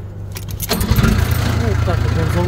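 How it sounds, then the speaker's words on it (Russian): A Komatsu D20A-5 bulldozer, a small 3.6-tonne, 39 hp machine, cranks and fires up, settling into a steady low diesel rumble close by, with a faint voice in the background. "Вот так вот он заводится"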